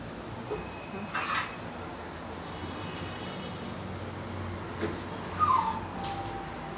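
A dog whimpers and yips faintly at a distance, in short plaintive bursts over a steady background hum at a site where tiles are being laid.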